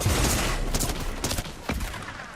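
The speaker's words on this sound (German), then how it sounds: "Ja, ich merke es, mir wird geschossen." Gunfire in a Fortnite match, a dense burst of rapid shots crackling one over another in a fast volley, loud and close over game noise, with no voices.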